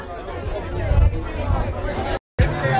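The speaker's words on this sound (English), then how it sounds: "Yo, the crowd has gotten thick around here." Thick crowd chatter at an outdoor international wine and food festival, a steady babble of many nearby voices with footsteps and movement, briefly cutting out near the end.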